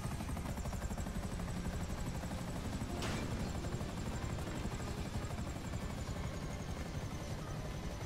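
A helicopter in GTA 5 Online flies with a steady, loud rotor chop and engine whine throughout, with one brief sharp burst partway through.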